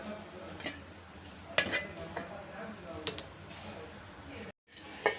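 A metal lid goes onto a cooking pot of chayote with a few crisp clinks and clatters spread over several seconds, close by, against a quiet kitchen hiss.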